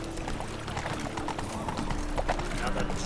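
Roach, a horse in The Witcher 3, trotting with a steady clip-clop of hooves under dialogue.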